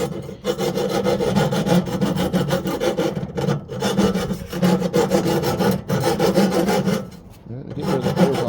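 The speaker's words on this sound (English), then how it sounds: "Let me get rid of the burrs on the inside." Rasping metal-on-metal scraping as burrs are cleaned from the inside of a steel driveline tube for a 1936 Oldsmobile, a close, continuous rhythmic grinding broken by a few short pauses.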